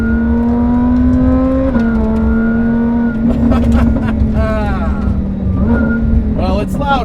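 A supercharged VF900 Lamborghini Huracan producing 700 wheel horsepower drones steadily from inside the cabin, its pitch shifting with gear changes and rising in brief revs.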